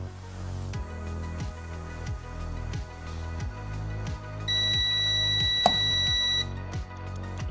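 A multimeter on continuity test emits a steady, high-pitched electronic beep lasting about two seconds. It sounds over a repeating low rhythmic pulse in the background, and no one speaks.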